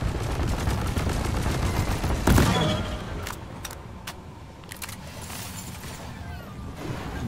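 Deep Rock Galactic gunfire in a cave starting room, heard as sustained rapid shots with a heavy burst partway through, then sparser individual cracks over a low rumble.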